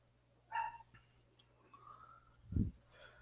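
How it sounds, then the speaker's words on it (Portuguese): A female dog barks a few times in the background of a muscle and skeleton exam lecture, with a sharp bark early on and a louder, lower bark near the end, faint and somewhat distant under quiet room noise. "a cachorra tá latindo"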